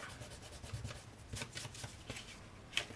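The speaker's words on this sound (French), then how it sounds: "ce que je vais faire, c'est ici, je vais essayer de gommer mes traits" Rubber eraser scrubbed over paper to remove pencil lines on a Christmas pop-up album page, a soft, quiet scratchy rubbing in repeated short strokes with a sharper flick near the end.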